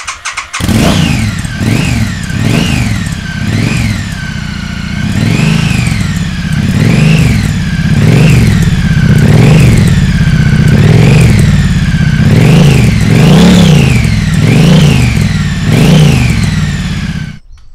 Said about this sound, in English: now we have the standard Triumph Street Twin silencers without the X-Pipe fitted